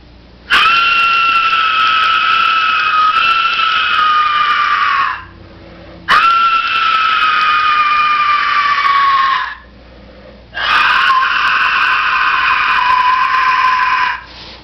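A ceramic Aztec Mayan style death whistle lets out three long, loud, piercing shrieks, each held for several seconds and falling slightly in pitch, with short pauses between them and no talking.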